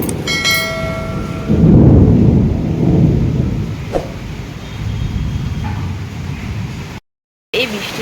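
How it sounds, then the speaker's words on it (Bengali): Thunder rolls during a heavy morning rainstorm, a loud deep rumble swelling and fading over several seconds against steady rain hiss, with a brief sharp crack partway through. "এই যে শুনতে তো পাচ্ছ নিশ্চয়ই কীরকম বজ্রাঘাত পড়ছে"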